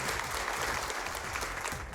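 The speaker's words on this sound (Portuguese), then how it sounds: "Foi saudada entre os aplausos e falas de ordem" Applause from protesting municipal teachers gathered in a city council chamber, a continuous, fairly distant wash of crowd clapping that holds steady throughout.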